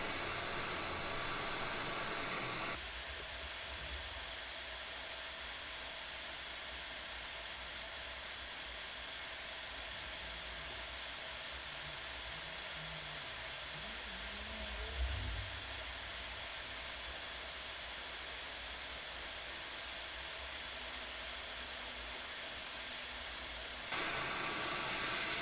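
An ATTEN ST-862D hot air rework station set to 400 degrees and 50% airflow blows a steady, even hiss of hot air through most of the stretch, starting and stopping abruptly with louder bursts at each end.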